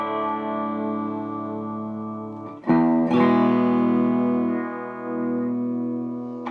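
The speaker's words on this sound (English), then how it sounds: "So let's see what the top boost input does" An electric guitar played through a Vox AC15 amp on the top boost input sounds sustained chords that ring and decay, with a fresh strum near the midpoint swelling loud and bright, alone without talk.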